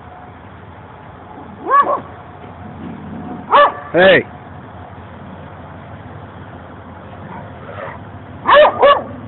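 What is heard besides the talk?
dogs barking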